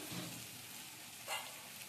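Onion masala frying in oil in a pan for Kolhapuri tambada rassa gives a soft, steady sizzle and hiss throughout, with a brief louder stir or scrape partway through.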